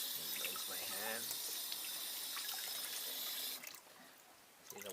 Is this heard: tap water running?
yes